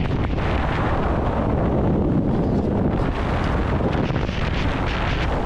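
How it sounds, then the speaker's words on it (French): Loud, relentless wind roaring and buffeting a tent up close in winter in the Icelandic Highlands, with a constant heavy rumble and flapping fabric surges as the tent inflates and snaps throughout. "Ma tente gonfle, claque, se déforme sous la pression infatigable du vent."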